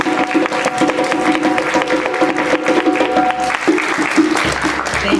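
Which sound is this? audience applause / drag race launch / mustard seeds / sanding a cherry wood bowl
audience applause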